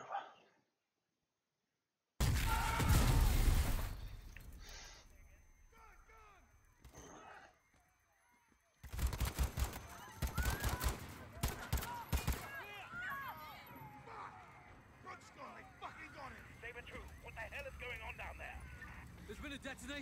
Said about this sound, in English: Shots fired. Officers down.